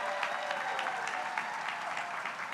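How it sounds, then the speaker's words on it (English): An outdoor crowd at the grand opening of the Billie Jean King Main Library in Long Beach gives a steady, full round of applause, with crisp individual claps over a continuous wash. "Can we give her a round of applause?"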